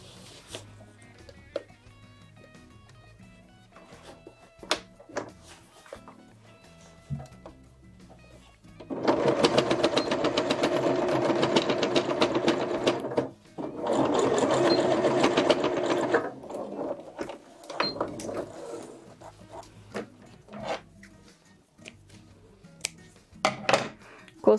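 Sewing machine stitching the corner of a fabric cosmetic pouch, two loud rattling bursts of stitching separated by a short pause, framed by quieter handling clicks and some talk.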